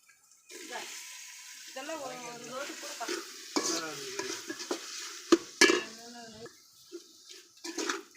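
Tomatoes fry with a ginger-garlic masala in a pan, giving a wet sizzle under a utensil scraping and clattering as they are stirred. A voice speaks over the cooking with irregular pauses.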